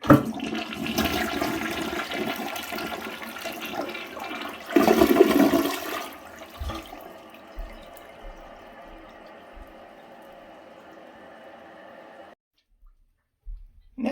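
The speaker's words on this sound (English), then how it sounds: "Next, we'll demonstrate the regular flush." A regular flush of a 2000s third-generation Mansfield Alto toilet: a loud rushing whoosh of draining water peaks mid-way, then gives way to a quieter steady hiss of the tank refilling before cutting off near the end.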